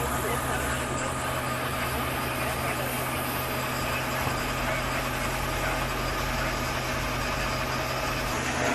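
A fire engine idles at a plywood warehouse fire in Hyderabad, a steady low engine rumble under a broad wash of noise, with indistinct voices in the background throughout.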